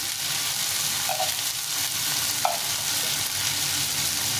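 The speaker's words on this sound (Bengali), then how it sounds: "এই আলু আর টমেটোটাকে ভালো করে ভেজে নিয়েছি" Potatoes and tomatoes fry in a pan, giving a dense, even sizzle close by, with a couple of faint utensil clinks and no talking.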